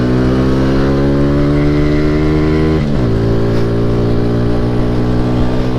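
Modified Bajaj 125 cc motorcycle exhaust revving loud and close, a raspy throbbing drone that climbs steadily, drops abruptly near the middle, then holds a lower steady idle.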